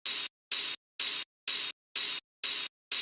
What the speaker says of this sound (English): I don't really like the sound of the original hi-hat.